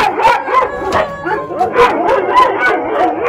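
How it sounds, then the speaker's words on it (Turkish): Several dogs bark, yip and howl excitedly at close range in rapid repeated bursts, with whimpering in between, greeting a visiting friend indoors. "Köpekler inanılmaz heyecanlı."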